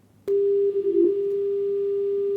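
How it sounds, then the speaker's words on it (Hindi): A telephone line drops to a steady electronic tone after the call is cut off, one unbroken pitch sounding clearly for about two seconds and then stopping. "लगता है असद से हमारा संपर्क टूट गया है"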